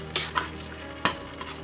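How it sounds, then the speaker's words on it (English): Pasta sauce for a spaghetti pie is stirred in a pan, a soft simmering sizzle under a few sharp scrapes and clinks of the spoon against the pan. "And then I'm gonna add in my pasta sauce. And mix that up real well."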